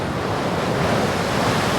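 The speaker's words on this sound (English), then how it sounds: "there's the wave." A big ocean wave rushes in around a lighthouse, a loud steady roar of surf and wind-blown water filling the scene without any speech.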